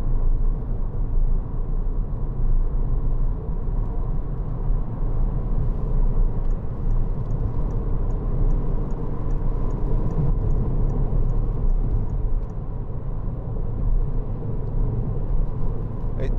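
A 2013 Citroen DS3 1.6 VTi DStyle Plus engine on the move, a steady low rumble and whir heard from inside the cabin, with road noise droning evenly throughout.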